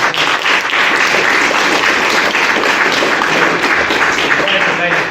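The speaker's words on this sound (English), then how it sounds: "So everybody, give her a round of applause." Audience at a county resource court event breaks into sustained, dense applause, many hands clapping steadily and loudly throughout.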